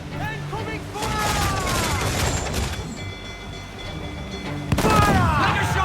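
Cannon fire and crashing impacts in a naval battle in the video game Assassin's Creed Black Flag, with loud rumbling booms over shouting crew voices and a sharp heavy blast near the end.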